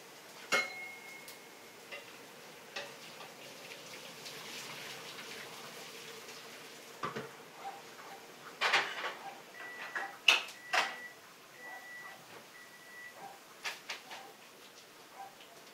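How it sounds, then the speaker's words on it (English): A kitchen timer ticks steadily while noodles cook for a chicken vegetable Alfredo, a faint ticking with scattered louder clicks and kitchen clatter, no talking. "That's the timer for the noodles."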